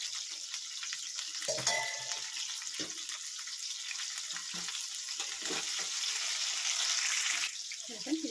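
Okra and bitter gourd pieces frying in hot oil in a pan, a steady broadband sizzle with occasional stirring clatter and a brief water splash, close and moderately loud, no talking.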